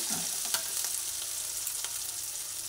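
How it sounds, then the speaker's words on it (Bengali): Spices fry with turmeric powder in a pan for a pointed gourd malai curry, making a faint, even sizzle with a few light stirring clicks. "হলুদ গুঁড়ো দিয়ে দেওয়ার পরে হলুদ গুঁড়ো একসঙ্গে ভেজে নিচ্ছি।"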